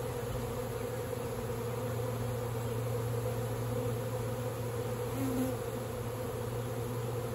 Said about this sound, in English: this is a pretty massive swarm.